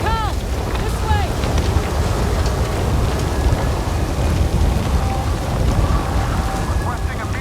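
Steady rainstorm hiss with rumbling wind in Star Wars Jedi: Survivor, continuous and heavy throughout, with a few faint tonal chirps early on and distant low thunder-like rumble, a voice briefly present.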